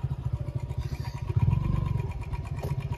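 Up close, a motorcycle engine chugs at low revs in a steady throbbing pulse, swelling briefly as the bike climbs over big rocks on an off-road trail in the Aravali Hills.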